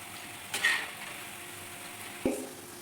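Mushroom kebab pieces frying in a pan give a soft steady sizzle, broken by a couple of brief utensil clinks and stirring scrapes, quiet and close with no voices.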